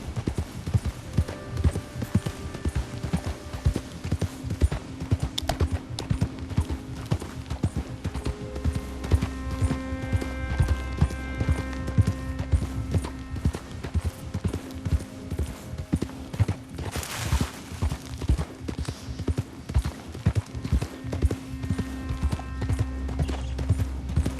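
Rapid, rhythmic hoofbeats of a galloping horse in the video game Red Dead Redemption 2 pound steadily without pause, loud and close, over a low background hum.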